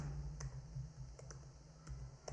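A few soft, scattered keystrokes on a computer keyboard while entering text into a spreadsheet cell, faint and close against a low room hum, with no talking.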